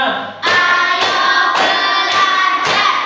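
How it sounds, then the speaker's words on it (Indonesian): A school class performs a concentration clapping routine, the group clapping in about five regular, loud bursts with voices chanting along. "mari kita tepuk konsentrasi terlebih dahulu"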